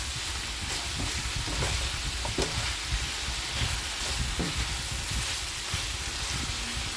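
Shredded cabbage and vegetables for pansit stir-frying in a pan, a loud, continuous sizzle with faint stirring scrapes throughout.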